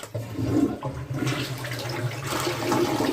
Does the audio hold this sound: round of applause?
no